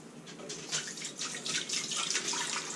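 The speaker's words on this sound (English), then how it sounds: "Going to pour half of the gallon" Water pours steadily from a gallon jug into a good-sized cooking pot to make a brine for chicken, a continuous close splashing rush that runs for the whole stretch with no talking.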